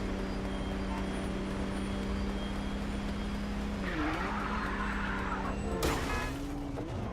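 In a video game, a car drives through traffic with a constant whining engine drone, then a tire skid squeals in briefly near the end, loud and continuous with no pauses.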